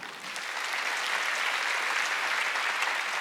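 A church congregation at an Easter Sunday service claps in a thick, continuous wash of applause that swells slightly and stays loud and even throughout.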